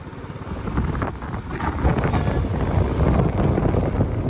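Cold mountain wind blows in a steady, loud roar and buffets the microphone throughout, with brief gusts and a rushing, broadband character and no talking.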